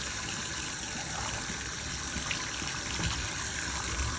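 Tap water runs steadily from a faucet onto a cat during a bath, a soft continuous gushing stream at moderate distance with no talking.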